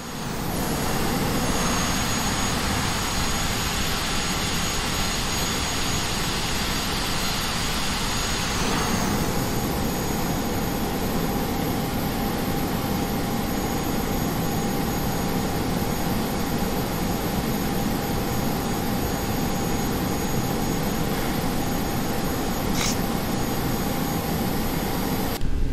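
Aircraft jet engine roaring steadily at close range during a touch-and-go on runway 10 right, a loud continuous rumble with a sustained high whine and a brief tonal shift partway through, no talk over it.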